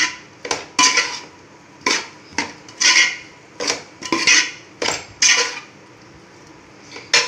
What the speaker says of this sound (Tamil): நல்லா இப்படி இந்த கிரேவி எல்லாமே நல்லா ஒட்டுற மாதிரி நல்லா கிளறி விட்டுக்குங்க.